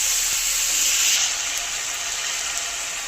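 Whole garam masala and cumin seeds sizzling in hot oil, a loud steady hiss with faint crackles throughout, no voices.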